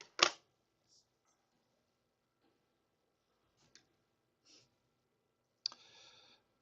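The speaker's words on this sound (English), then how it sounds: "When you type it into your calculator," Sparse clicks of fingers pressing calculator buttons, a few isolated taps spaced seconds apart with near silence between, one sharper click at the start and another near the end.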